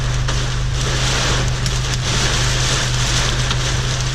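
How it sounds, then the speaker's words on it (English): Hail pelts a car with the windows closed, a dense, loud, continuous drumming and hiss heard from inside the cabin, steady for the whole stretch with no talking. "Is that hail? Sounds like it."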